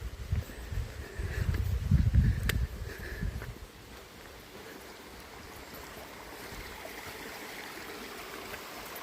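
Water trickling and flowing along an old mill race stream on an estate near Dublin, louder and choppier for the first few seconds, then settling into a soft, steady wash.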